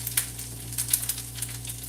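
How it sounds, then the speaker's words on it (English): Food fries in a pan with a faint, crackly sizzle and scattered pops over a low steady hum. "you hear that sizzle?"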